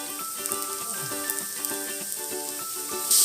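Pork steak sizzles steadily in a hot pan, a dense continuous frying hiss with small crackles and faint clinks throughout, no talking.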